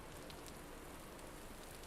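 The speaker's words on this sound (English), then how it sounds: "Let's get out of the storm for a minute" A rainstorm in the survival game Vintage Story, heard as a steady, dense hiss of rain beating on surfaces, even and unbroken throughout with no talk over it.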